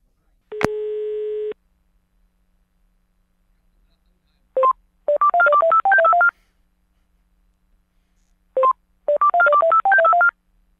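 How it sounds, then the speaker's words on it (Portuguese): Telephone keypad tones for a prank call: one long tone, then two quick runs of rapid DTMF beeps separated by silence, loud and clean with no voices. "Então vamos, liga, vai, liga."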